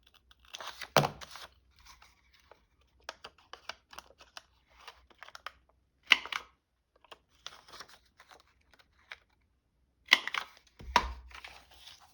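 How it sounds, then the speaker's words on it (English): Paper is cut for the back flap of a junk journal page, heard as close, crisp clusters of snipping and crunching clicks separated by quiet pauses, with no voice. "Cut the back flap. Cut the back flap."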